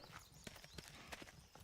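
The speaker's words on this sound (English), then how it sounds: "I hear an animal breathing and walking, but I don't see anything." An ox walking in the video game Manor Lords, with faint, irregular hoof thuds and soft breathing in a quiet rural setting, no voices.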